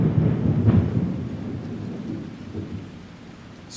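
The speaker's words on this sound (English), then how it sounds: "Storm incoming!" Thunderstorm with rain: a loud rolling thunder rumble at the start that slowly fades, over a steady wash of falling rain, with no talking.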